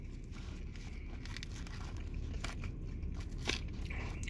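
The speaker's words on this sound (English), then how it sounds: "Sorry about that crunching you guys hear in the background." Crunchy biting and chewing of crispy garlic rub chicken wings, with close irregular crackles and bites over a steady low background hum.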